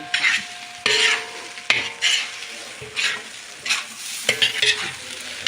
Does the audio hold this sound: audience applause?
no